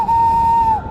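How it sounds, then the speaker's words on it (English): A railway guard blows his whistle in one loud, sustained shrill blast of just under a second, clear and close with nothing else audible. "The guard blew his whistle"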